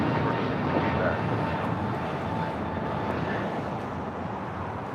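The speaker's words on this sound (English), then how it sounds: "Next takeoff here on the south side is the Tom Airlines Santiago 2023 special livery headed to Santiago in the 787-8 Dreamliner." A Boeing 787-8 Dreamliner in special livery takes off from the south side at LAX, a steady broadband jet roar heard from a distance that holds constant throughout with slight wind buffeting.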